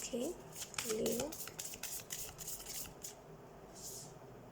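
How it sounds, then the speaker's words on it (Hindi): Tarot cards are shuffled by hand, giving brisk riffling and rubbing bursts throughout, with a voice speaking over the start. "सबसे पहले हम कार्ड शफल कर लेते हैं।"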